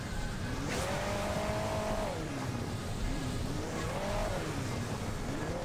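A race car in Hill Climb Racing 2 roars on nitro boost, its engine note climbing and dipping in repeated revving sweeps over a steady loud drone, with no talking.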